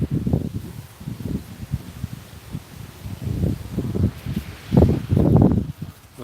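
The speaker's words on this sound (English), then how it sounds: "Oh, come on, wind." Wind blowing through a garden, buffeting a nearby microphone in low, rumbling gusts that rise and fall, strongest near the end, with faint rustling of leaves.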